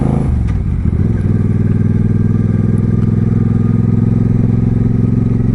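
An Indian Springfield motorcycle pulls away in low gear, its engine a loud, close, steady rumble after a short lift in revs near the start, running alone with no talk.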